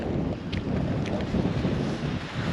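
Cold, strong wind buffets the microphone on a seashore at Fowlers Bay, South Australia, a continuous loud rushing blast with gusty swells and no talking.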